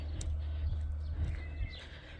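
A horse neighs and its hooves clop close by on a rural walk past lush grassland where goats and sheep graze, with steady low background rumble throughout.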